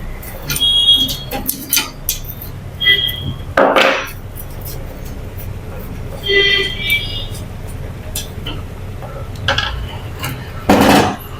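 Removing a nut from the underside of a sewing machine produces scattered metallic clinks, knocks and rattles up close. The bursts come irregularly, with a couple of louder clatters.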